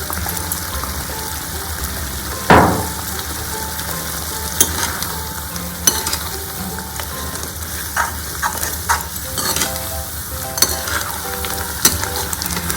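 Tomato ketchup cooks into a thickening sauce in a pan for a chicken cheese burst pizza, with a steady sizzle and occasional clicks of the spoon scraping the pan.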